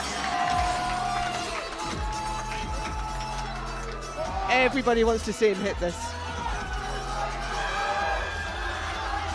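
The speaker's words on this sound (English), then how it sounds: "The crowd are on their feet." A crowd in a powerlifting arena at the IPF Sheffield 2024 event roars and cheers loudly, swelling in the middle and then easing, while a commentator speaks over the noise.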